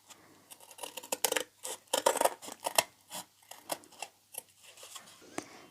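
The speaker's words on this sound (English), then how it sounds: "take your scissors and just cut around it." Scissors snip through felt for a DIY craft decoration in a rapid, uneven series of close, crisp cuts with small pauses.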